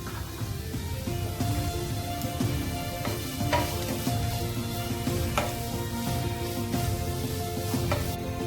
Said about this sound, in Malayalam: ചെറിയ ഫ്ലെയിമിലിട്ട് വഴറ്റിയാൽ മതി